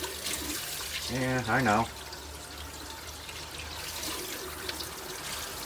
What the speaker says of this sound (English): filling it full of water,